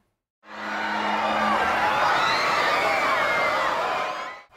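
Crowd of swimmers shouting and cheering in an artificial wave pool at a big water park, a loud sustained roar of many voices rising and falling over rushing water for several seconds.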